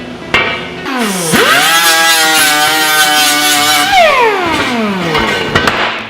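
An angle grinder works on a rear lower control arm of a 1964–1972 GM A-body car, its motor spinning up with a rising whine, holding a loud steady grinding tone, then winding down, with a couple of clanks.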